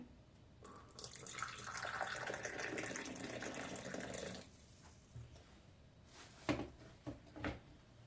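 Hot boiled water is poured from a cup into lavash dough ingredients. The pour is a steady splashing stream for a few seconds, then gives way to quieter clinks and handling sounds.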